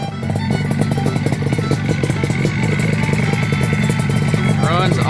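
A Yamaha RD 350 motorcycle engine running at a steady, loud, close rumble with a rapid rattling beat throughout and no voices.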